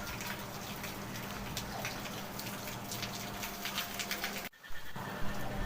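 Steady rain falls and patters on surfaces outside a home, a dense continuous hiss with scattered drips, briefly cut short near the end before resuming.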